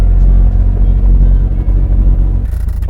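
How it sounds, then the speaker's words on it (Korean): An old Hyundai Pony's engine idles with a loud, steady low rumble and slight uneven flutter, then drops in level near the end as it is switched off. "오케이, 시동 끄겠습니다."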